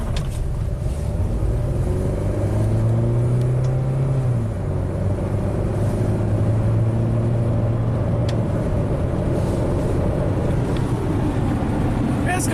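A classic Mercedes with a 2.3-litre four-cylinder engine accelerates, its engine note rising in a steady low drone and then settling into a sustained cruise hum, heard close and loud from inside the car.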